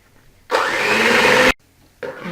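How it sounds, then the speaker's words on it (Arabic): Electric hand mixer whirring loudly up close as it blends crêpe batter, in two bursts: a steady one-second run, a short pause, then a second start. "انايا نخلط كلش بالباتور"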